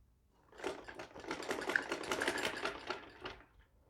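Sewing machine stitching a ladies' trouser, a quiet rapid mechanical chatter that starts, runs steadily for a few seconds and stops.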